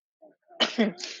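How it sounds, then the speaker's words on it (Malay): A single short sneeze bursts out close to the microphone, with a small intake of breath before it, in an otherwise quiet room. "sekejap nak bersin"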